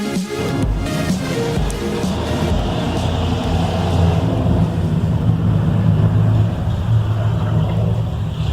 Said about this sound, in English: It's actually a car.